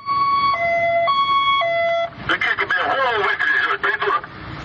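An emergency vehicle siren wails in a two-tone, alternating pattern, then gives way to a busy, warbling stretch of traffic-like noise.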